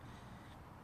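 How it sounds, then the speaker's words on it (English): Birds call faintly in a garden, with crow-like caws half buried in a steady wash of broadband outdoor noise. "You may hear a few birds in the background."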